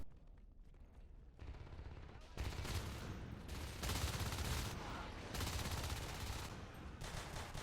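Bursts of rapid automatic gunfire in the Natural Selection game start and stop in a competitive match, loud and dense, with faint commentary underneath.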